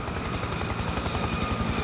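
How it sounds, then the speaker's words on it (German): A helicopter approaches in the war shooter game Spec Ops: The Line, its steady rotor thump and engine drone filling the short stretch at a constant, fairly loud level, with no one talking. "Langsam, da kommt ein Heli."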